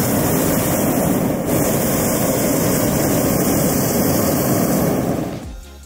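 Small camera drone flying back toward its operator outdoors on a trip in Acre, Brazil, a loud steady whine that holds for about five seconds and then cuts off abruptly near the end.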